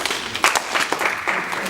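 A seminar audience claps once together, a short scattered burst of hand claps that is loud and close, with a few stray claps trailing after.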